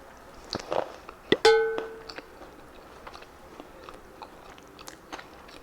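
Someone bites into kanda poha, a Maharashtrian flattened-rice breakfast dish with peanuts, peas, onion and coconut, producing a few loud crisp crunches close to the mic, then softer chewing with no talking.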